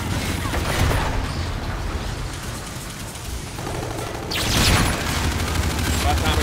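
Bursts of gunfire in Call of Duty Infinite Warfare, a dense rattle of shots under constant loud battle noise, swelling into a heavier volley near the end.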